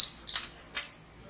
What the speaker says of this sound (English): See the cash register opens and then you put the money.